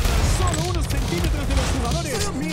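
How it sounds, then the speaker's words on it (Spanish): Rapid gunfire bursts from a Counter-Strike match played at an esports event, heard as a busy, continuous crackle beneath a loud, excited commentator voice. "¡Vemos algunos disparos!"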